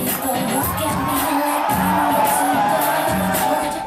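Nightclub crowd in New York City cheers and whoops loudly during a live performance, a dense roar of shouting with pulsing music beneath it, close and continuous.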